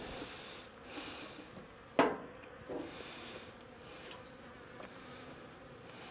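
Honeybees buzzing faintly around an opened hive during beekeeping work, a soft, continuous drone with a sharp knock and a few light handling clicks over it, no talk.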